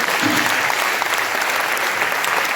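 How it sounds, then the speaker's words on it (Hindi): A mushaira audience gives a loud, sustained round of applause, dense even clapping heard close throughout. "तो एक बार ज़रा तालियों से अनुमति प्रदान करें"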